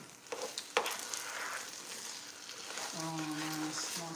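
Risotto with mushroom and onions sizzles softly in a pan, a low, steady frying hiss with a couple of sharp stirring knocks near the start. A faint tone and brief voices sound near the end.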